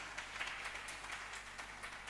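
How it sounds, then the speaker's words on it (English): An audience claps for a speaker at an academic talk on climate resilience and sustainable development, a brief, even patter of many hands heard somewhat faintly, as if from a distance or through a room microphone. "Big applause to sir."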